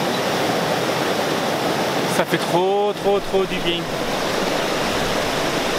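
Steady roar of a river waterfall cascade fills the whole span as loud, close, unbroken rushing water, with a person talking briefly over it midway.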